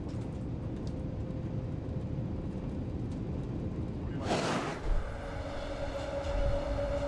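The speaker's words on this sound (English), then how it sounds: "With the guideway virtually perfect and the first maglev vehicle safely mounted, a test run was performed with a single train" A single maglev train on a test run rushes past on its guideway, a steady hum swelling into a brief loud whoosh midway, then easing back to a lower drone.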